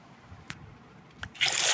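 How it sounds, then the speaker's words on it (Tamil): Water being placed in Minecraft: two short soft splashy clicks, then a loud bright rush of flowing water that starts near the end and keeps going. "இப்போ நம்ம வந்து இந்த தண்ணியை எடுத்துட்டு இங்கே வைக்க போகிறோம்."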